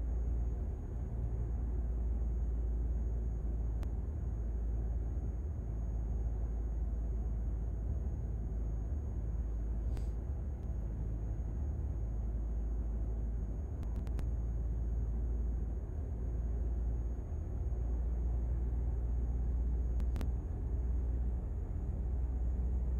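Truck road noise in the Euro Truck Simulator 2 video game: a steady low engine and tyre rumble that drones on without a break, with a faint high whine and a few brief clicks over it.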